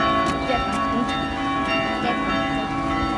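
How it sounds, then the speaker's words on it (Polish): Church bells ring continuously at a distance on a Sunday near the Ta' Pinu Basilica in Gozo, Malta, their tones layered over steady outdoor background noise. "W kościele dzwony cały czas."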